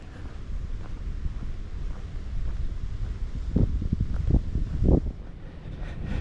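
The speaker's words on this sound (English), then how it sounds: "So I guess we're gonna have to endure the wind" Strong wind on Angel Island buffets the microphone with constant low rumbling roar. Heavier gusts thump and blast through it, and the wind is loud and close throughout.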